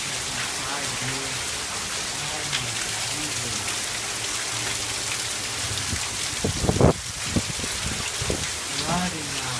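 Heavy rain pours steadily outdoors during a Southern California rainstorm, a dense continuous hiss of drops on surfaces, with a few louder splashes and thumps near the end.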